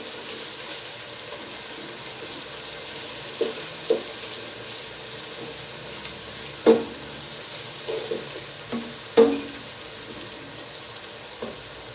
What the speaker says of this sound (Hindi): पहले हम ऑयल में 3 अदद दरमियानी साइज के प्याज चॉप करके इसमें डाल देंगे।